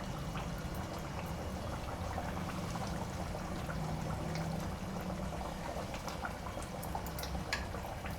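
Chettinad rock fish gravy simmering in a pot, a steady low bubbling and gurgling with small irregular pops throughout, close and fairly quiet, with no voices.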